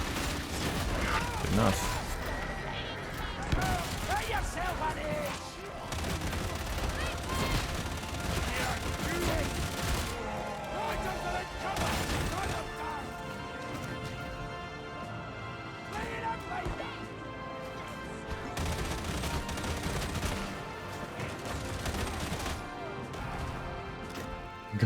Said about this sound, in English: Gun shoot bullet.